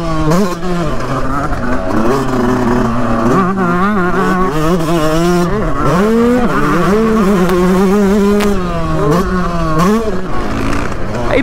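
A 125cc motorcycle engine being ridden, its loud, close drone rising and falling steadily as the throttle is worked through repeated rev changes.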